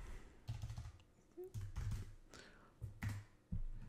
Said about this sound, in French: si je fais une faute de frappe parce que je tape trop vite et que je tape tonneuse